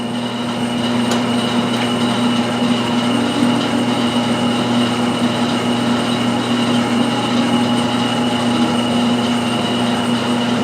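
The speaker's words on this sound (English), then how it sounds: "Now I'm going to knurl, so I'm going to go into a slow speed." A metal lathe runs at slow speed while knurling a part for a fly-tying vise, giving a steady mechanical hum with faint scraping and occasional ticks and no voices.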